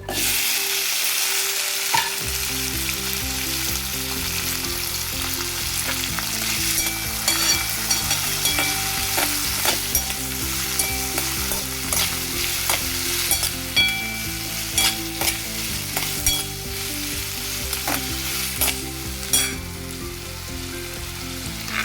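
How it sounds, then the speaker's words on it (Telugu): Chopped ivy gourd and onion frying in oil in a pan, a continuous loud sizzle broken by regular scraping stirs and light knocks against the pan, with no talking. "దాంట్లో మనం ఇక్కడ కోసి పెట్టిన దొండకాయ, ఉల్లిపాయ వేసుకోవాలి."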